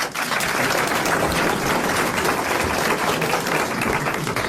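Studio audience applause greets comic actor Philippe Castelli on a 1981 French television show, a thick continuous roar of clapping that stays loud and even from start to finish.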